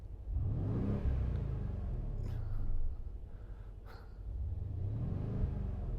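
A Mercedes-AMG GLC63 S with a 4.0-litre V8 BiTurbo engine revs through its AMG exhaust, two swelling deep roars with a dip between, close and loud, no talking.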